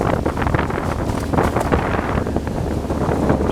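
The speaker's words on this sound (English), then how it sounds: "It's windy up on top of this hill." Wind buffeting hard across an exposed hilltop, a dense, rough roar against the microphone with gusty swells and no clear pauses over a few seconds.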